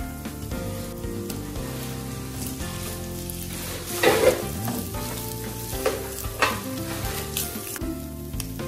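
Garlic paste and boiled shredded chicken fry in a pan with a constant close sizzle, broken by a louder stirring scrape midway, while gentle background music plays beneath.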